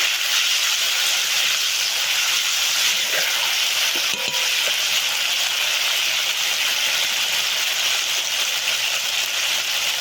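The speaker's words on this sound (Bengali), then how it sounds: "মশলাগুলো দিয়ে ভালোভাবে কষাতে থাকবো।" Crab curry masala with turmeric, salt and chili powder sizzling steadily in a pan with a little water, a constant loud hiss running through the whole stretch with no pauses.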